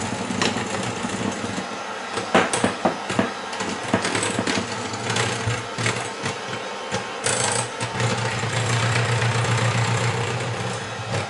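An electric mixer whirs steadily through cake batter of oil, milk, baking powder and flour for a marble apple cake, a close, continuous motor hum with small bumps in tone.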